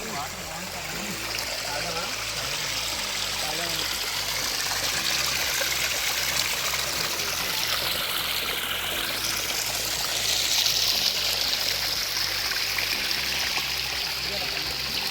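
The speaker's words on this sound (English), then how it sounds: "we have reached this stream where we have just filled in the water" A forest stream flows steadily and close by along a mountain trek trail near Kumara Parvata, giving a continuous broadband rush and trickle with no break.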